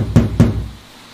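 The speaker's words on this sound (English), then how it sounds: "she ran up the front steps and knocked on the big wooden door." Two firm knocks land on a big wooden front door, deep and resonant, spaced a quarter second apart before the sound dies away into quiet.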